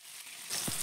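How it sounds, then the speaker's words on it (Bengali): Fish sizzling in hot oil in a wok, a steady crackling fry that swells louder halfway through as the pieces are turned, with a brief low thump of the flip. "এক পাশে মাছগুলো লালচে করে ভাজা হয়ে গেলে আমি মাছগুলোকে উল্টে দেব"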